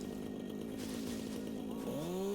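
A video-game chainsaw in Satisfactory runs steadily through a cut, a continuous buzzing engine drone that holds level and then rises in pitch near the end, close and alone.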